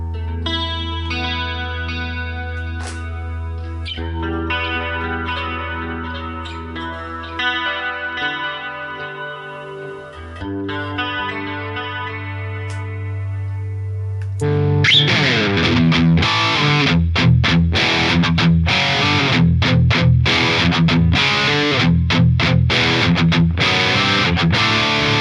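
Electric guitar through the Line 6 Helix factory preset Pull Me Under, played alone: a melodic distorted passage of picked notes and chords with echo, building into denser, louder chugging rhythm in the second half.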